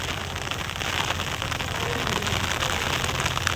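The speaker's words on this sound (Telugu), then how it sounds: "వాన చూడండి ఫ్రెండ్స్ ఎట్టబడుతుంది ఇక్కడ" Steady rain pours down outdoors in cool weather, a dense, even hiss of drops hitting surfaces close by, with no voices over it.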